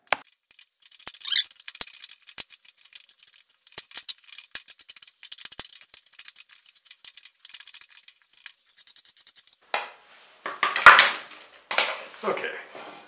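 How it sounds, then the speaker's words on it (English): Ginger being minced with a knife on a cutting board: quick, irregular clicking taps of the blade run steadily, then end in a few louder, denser clattering bursts. "Next, to mince the ginger."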